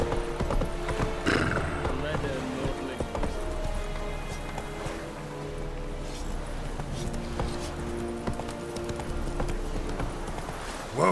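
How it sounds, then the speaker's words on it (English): Roach, a horse in The Witcher 3, trots with steady clip-clop hoofbeats and gives a neigh, mixed with game music, ambience and voices talking over it. "Whoa there, Roach"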